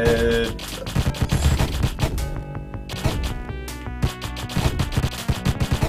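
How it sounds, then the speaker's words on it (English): Dense, rapid explosions and gunfire-like blasts from enemies bursting when killed in the action video game Deathstate, loud and continuous with punchy hits layered throughout. "Yeah, whenever you kill those, they just explode no matter what."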